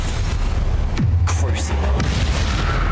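Confringo spell blast in Hogwarts Legacy, a loud booming explosion with a falling whoosh, followed by further impacts, all heard under a continuous game soundscape.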